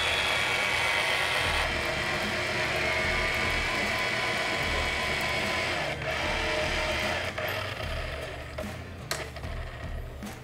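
An LP SV-1200 electric fishing reel winds line onto its spool with a steady, close mechanical whir and a ratcheting, gear-like hum that runs unbroken and eases slightly near the end.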